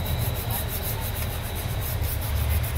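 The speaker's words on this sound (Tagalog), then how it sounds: "lihahin ko muna to" Sandpaper rubs carbonized magnet wire on a voltage regulator to clean it, making a continuous close, rhythmic scratchy scraping with no talking.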